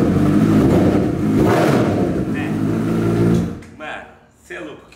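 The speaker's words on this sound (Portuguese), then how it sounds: "olha o ronco dessa moto" A Honda CB1000 motorcycle engine roars loudly and close for about three seconds, a dense sustained rev that cuts off abruptly, followed by a few brief voice-like sounds.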